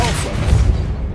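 A Depulso force-push spell in Hogwarts Legacy lands with a short, heavy low thump that rumbles briefly and fades within about a second.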